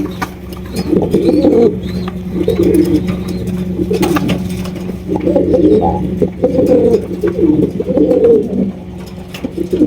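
A male pigeon coos repeatedly in rolling, throaty phrases, loud and close, over a constant low hum.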